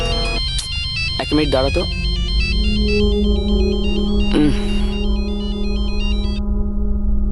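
A mobile phone ringtone plays as a steady melodic tune for several seconds, fairly loud and close, with someone speaking briefly over it.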